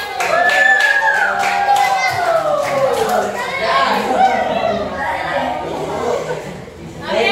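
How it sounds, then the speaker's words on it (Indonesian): A middle school class claps for group 1, brisk rhythmic applause from many students, with children's chatter and laughter mixed in over the clapping. "Boleh tepuk tangan kelompok 1."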